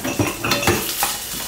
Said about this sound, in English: Saute both over low heat until it turns aromatic.